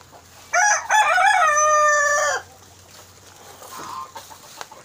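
A rooster crows once loudly and close in a chicken coop, a long rising-falling call, followed by softer chicken clucking and quiet farmyard background.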